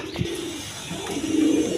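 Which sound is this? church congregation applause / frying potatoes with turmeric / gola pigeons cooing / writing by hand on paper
gola pigeons cooing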